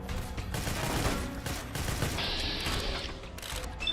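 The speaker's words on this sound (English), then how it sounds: "So they're just basically shooting pistol ammo." Rapid pistol fire from Securitron robots in Fallout: New Vegas, a dense, continuous volley of overlapping shots with mechanical clatter, loud and close throughout.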